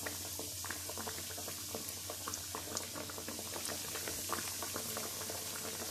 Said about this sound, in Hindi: और इसको हम मीडियम फ्लेम में फ्राई होने देंगे।